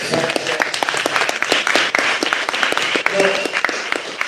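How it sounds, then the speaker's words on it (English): A crowd applauding at a music single and video launch with a dense, steady patter of clapping that continues for a few seconds, fairly close, with some voices mixed in. "give a round of applause"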